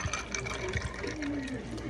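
Water pours into a container of juice with a steady splashing, filling sound, heard close and moderately loud for a couple of seconds.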